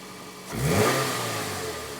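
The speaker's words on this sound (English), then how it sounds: "So now go in the vehicle and accelerate." A Toyota Camry engine revs up from idle, a short rising roar that swells quickly, then eases and holds at a steady mid-pitched drone, with no talk.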